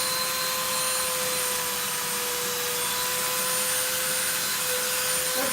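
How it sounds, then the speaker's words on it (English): Dremel rotary tool fitted with a stone bit, grinding while a full head mask is sculpted; a steady high-pitched whine holds unbroken and loud throughout. "What Dremel bit are you using?"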